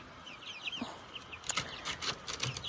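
Guinea fowl being let out of their pen on a sunny day give a few scattered, fairly faint clucking and chattering calls, rising in a short flurry toward the end.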